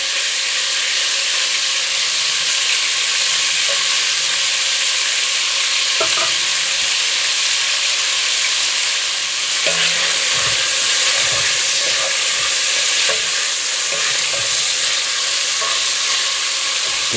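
Jambalaya frying in a pan, a steady loud sizzle running throughout with repeated scraping stirs and occasional clanks of the spoon against the pan.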